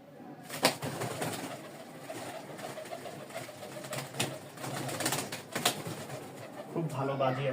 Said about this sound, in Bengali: খুবই সুন্দর একটা কোয়ালিটির কবুতর দিয়ে দিচ্ছি লাস্টে